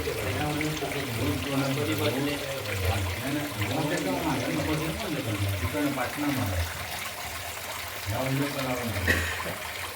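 Water flows steadily behind a homemade Ganesh Chaturthi festival decoration, a soft continuous trickle running underneath someone talking nearby.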